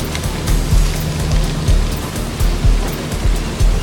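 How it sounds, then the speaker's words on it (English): Steady rain patters close by, with dull, rhythmic low thumps recurring every half second or so beneath it. "Oh boy, now it wants to rain."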